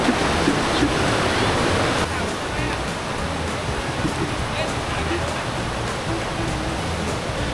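Continuous rushing roar of a waterfall at Khao Chong Lom, Khun Dan Prakan Chon Dam, Nakhon Nayok, Thailand, loud and steady throughout, filling the whole clip without pauses.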